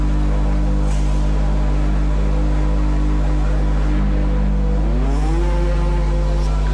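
Loud, steady engine drone of Formula 1 cars idling and humming in a pit lane in the F1 2021 game, with one engine's pitch rising near the end; synthetic game audio.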